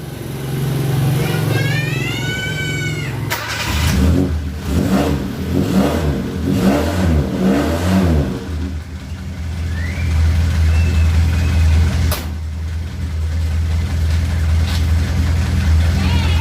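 A Suzuki Katana car engine, freshly tuned at the ignition points, idles loudly up close and revs up several times, then settles into a steady running drone with a few clicks.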